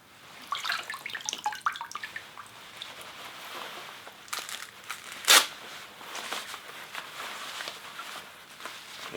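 A Kuiu Axis glove is pushed under water, giving soft sloshing, splashing and dripping sounds in irregular bursts, with one sharper splash partway through.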